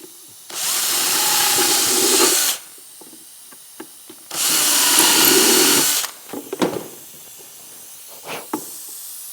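Power drill whirring in two sustained bursts of about two seconds each while poking holes during an SLP powder valve install, loud and close, followed by scattered clicks and small handling knocks.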